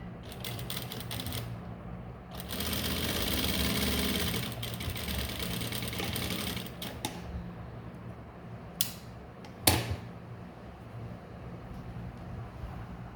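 Sewing machine stitching a straight seam on a blouse, a steady close mechanical whirr that runs in bursts and pauses, with a few sharp clicks near the end.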